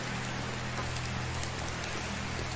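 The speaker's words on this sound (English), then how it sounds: "Why are you standing out here in the rain, Bernadetta?" Steady rain in the video game Medieval Dynasty, a constant dense hiss of falling drops with a low background hum, no talk over it.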